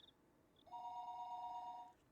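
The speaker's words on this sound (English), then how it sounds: "At that moment, the phone downstairs rang." A telephone rings downstairs in a house in the Higurashi When They Cry game, giving one sustained electronic ring that is clear but fairly quiet over a low background hum, with no speech.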